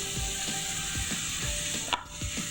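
Chopped onion and green chilli pieces fry in a pan for a samosa filling, a continuous sizzle with rhythmic scraping stirs at regular intervals, close and moderately quiet, no voices.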